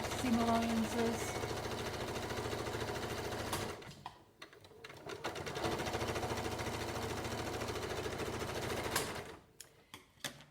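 A sewing machine stitches bodice seams in rapid mechanical bursts, running steadily, pausing briefly, resuming, then stopping with a few short clicks as the thread is chained off.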